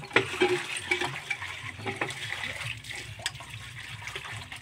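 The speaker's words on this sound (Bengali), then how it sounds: "নিচে আমার বড়মশাই এখন ধুচ্ছে মাংস, তোমরা দেখতে পাচ্ছ। এই জলে কত সুন্দর ধোয়া হয়ে যাচ্ছে" Running water splashes and gurgles as meat is washed under a flowing stream for biryani, an uneven wet rush with small knocks and sloshes, moderately faint and close by.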